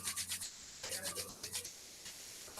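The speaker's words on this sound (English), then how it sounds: "Inhale, come up, rub your palms." During a yoga class, a pair of palms rub briskly together in rhythmic bursts of dry swishing. The strokes are close but quiet, with a short pause partway through and no voices.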